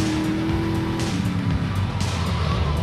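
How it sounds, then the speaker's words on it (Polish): An Infernus sports car races through GTA Vice City, the engine roaring loud and close with squealing, skidding tires, and no talking. "Na szczęście mamy zarąbistego Infernusa i tym można jechać, nie?"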